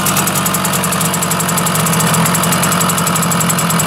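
Watercooled Zündapp KS 50 moped engine idling while still cold, a loud, steady, buzzing two-stroke putter with a fast even rhythm, close up and continuous, with no talking.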